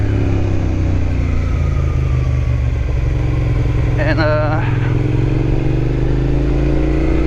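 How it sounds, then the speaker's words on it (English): A Suzuki SV650 V-twin motorcycle engine runs loud and close with a steady rumble and slowly shifting pitch, while someone talks over it. "I love the way V-twin sounds."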